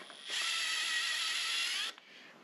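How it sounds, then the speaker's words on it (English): A countersink bit cuts into a freshly drilled hole in a steel axle housing bracket, giving one steady whirring grind of about a second and a half that starts and stops abruptly. "Now I'm going to give it a nice countersink"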